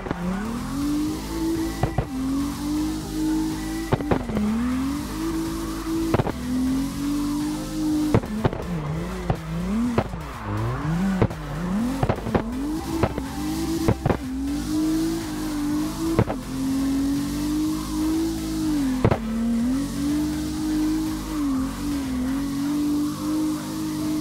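Race car in the CarX driving game, its engine droning steadily with pitch rising and dipping through shifts, broken by repeated sharp clicks and brief tire squeals, loud and continuous throughout with no talk.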